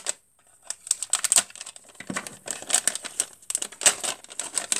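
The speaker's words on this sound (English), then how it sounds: "Just pop this one open real quick." Mega Construx Halo blind bag being torn and pulled open by hand, a close, loud run of crinkling plastic rustles and sharp crackles in irregular bursts, with no speech.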